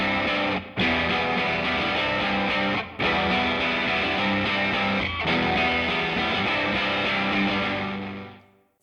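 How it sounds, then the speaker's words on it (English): Overdubbed electric guitar through a raspy, ratty distortion in a heavy rock section, loud sustained chords broken by brief gaps and ending in a fading ring-out. "just a ratty little distortion to accentuate that heavy section there"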